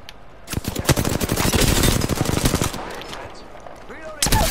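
Rapid machine-gun fire in a shooter video game rattles out in a long, fast burst of sharp shots, loud and close, followed by a few scattered single shots, with a voice talking over it.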